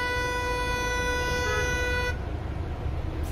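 A car horn blares in one long steady honk amid heavy weekend traffic jam noise, then cuts off while the engine rumble of stalled cars continues.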